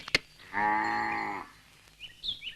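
A cow gives one long, steady moo of nearly a second in a rural home scene, clear and fairly close, preceded by a sharp click and followed by faint bird chirps.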